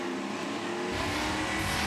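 Stadium Super Trucks race on a street circuit, a steady broadband engine roar from a distance that swells louder partway through, with no voices.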